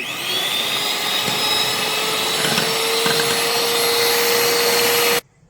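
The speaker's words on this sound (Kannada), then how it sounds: "ಈಗ ನಾವು ಬೀಟ್ ಮಾಡ್ಕೊಳ್ಳೋಣ" An electric beater whips cream for chocolate ice cream with a steady, loud motor whine that holds for about five seconds alone, then cuts off abruptly.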